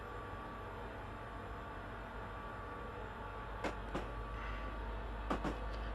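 Freight train running slowly on Sherman Hill in the video game Train Simulator 2015, a low steady rumble and hum with a few sharp clanks and knocks near the end, no talk.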